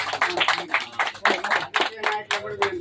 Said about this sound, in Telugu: ఒకసారి గట్టిగా చప్పట్లు కొట్టాల్సింది కోరుతున్నాను